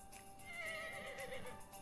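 A horse in a video game whinnies in a long, wavering neigh that rises and falls for nearly two seconds, moderately loud over quiet game ambience.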